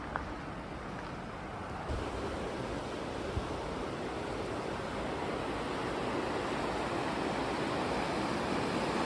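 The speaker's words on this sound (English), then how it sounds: "This is the Pigeon River" The Pigeon River, a whitewater river by the Appalachian Trail, rushes with a steady broadband roar, constant and fairly close, with some wind mixed in.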